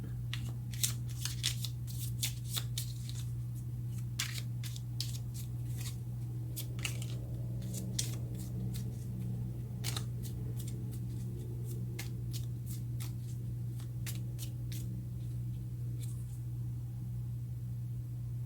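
Tarot cards being shuffled close up, a long run of crisp riffling flicks and slaps over a steady low electrical hum, with no talking.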